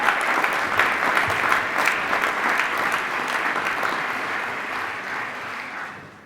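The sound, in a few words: audience applause for award winners at luncheon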